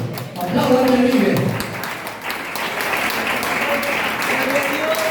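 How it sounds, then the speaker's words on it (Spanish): Congregation applauding at a church service, a dense wash of clapping that swells then holds steady, with voices calling out over it. "Aplauda al que vive"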